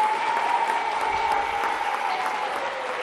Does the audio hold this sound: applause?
yes